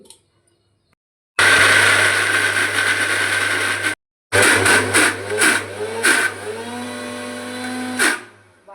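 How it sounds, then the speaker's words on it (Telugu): A kitchen mixer grinder roars loudly grinding soaked chana dal in two runs with a brief pause between, the motor whining and winding down at the end. "ఇప్పుడు మనం మిక్సీ పట్టేద్దాం"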